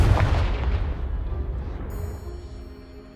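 A Confringo blasting spell explodes in the Hogwarts Legacy video game: one heavy, deep boom up front that rolls and decays over a few seconds, leaving a faint ringing tail.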